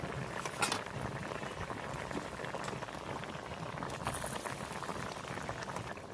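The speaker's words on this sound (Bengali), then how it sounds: "এবার আমি জল দিয়ে দেবো ভেজে রাখা মাছ দিয়ে দেবো তরকারি ফুটে গেছে" Fish curry bubbling steadily in a pot, a dense, continuous simmering patter with a brief sharper spurt near the start, close and fairly loud with no talk.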